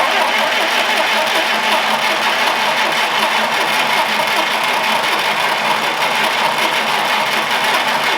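A Ferguson TED20 tractor engine turning over on the starter with the ignition off, giving a steady, continuous mechanical churning that holds at the same level for several seconds without catching, close and alone.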